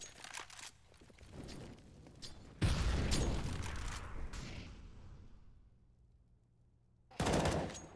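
Automatic gunfire in a Counter-Strike match on the Mirage map: a long burst of rapid shots, then a loud close volley that decays into a quieter stretch and a final sharp burst, with no voices.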